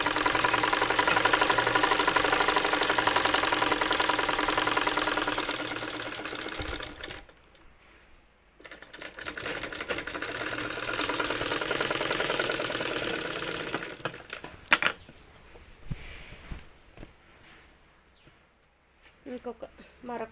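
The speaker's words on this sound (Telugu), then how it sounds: "మళ్ళీ డబల్ డబల్ స్టిచ్ కూడా వేస్తున్నాను నేను" A sewing machine runs steadily for about seven seconds, double-stitching a blouse, then stops; after a quiet stretch it starts again for another burst of stitching. Faint clicks and handling noises follow near the end.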